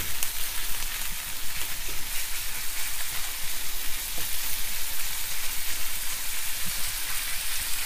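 Minced beef and green beans frying over high heat, a steady dense sizzle with a crackling, rain-like texture that holds evenly throughout, close and fairly loud with no voices.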